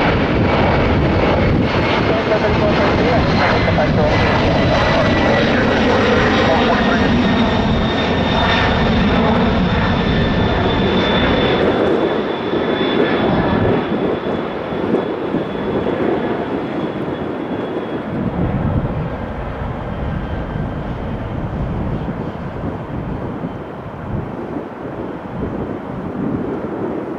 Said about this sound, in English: American 615, runway 10 right, clear for takeoff.